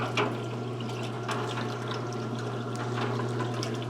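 Water sloshes and churns steadily while a part of a 1992 Dirt Devil Broom Vac Model 702 with a plastic tube is rinsed, under a constant low machine hum with small splashy bursts and no talking.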